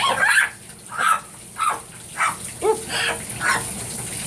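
A scarlet macaw imitates a dog's bark in a shower, giving a series of about seven rhythmic, raspy woof-like calls spaced roughly half a second apart, close and fairly loud over running water.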